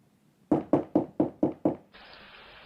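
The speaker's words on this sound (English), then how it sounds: "until he hears a knock on the door" Six sharp knocks on a wooden door in a steady, evenly spaced rhythm, close and loud against a quiet room, followed by a faint steady hiss.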